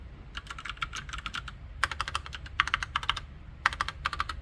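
Typing on a SKYLION G300 mechanical keyboard with red switches: close, fast bursts of light clicky keystrokes separated by short pauses, with no voices.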